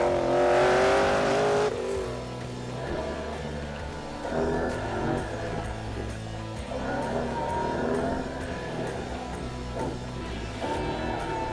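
A Corvette race car accelerates hard on an autocross course at LS Fest, its engine loud and close from the cockpit as it revs up and shifts, with steady mechanical roar throughout.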